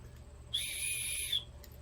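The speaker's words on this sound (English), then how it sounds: "It does come with another little carabiner that has a whistle attached to it." A small whistle clipped to a carabiner in an everyday-carry camping kit gives one shrill, steady blast of about a second, close and loud, starting and stopping sharply over faint background hum.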